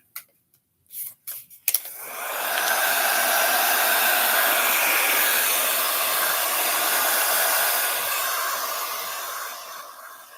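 A hair dryer blowing over a vintage card holder craft project, starting after a few clicks and knocks, then a loud, close, steady whoosh of air that runs on unbroken to the end.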